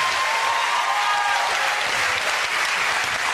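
A studio audience on a family game show bursts into sustained, dense applause, loud and even throughout with no talk over it.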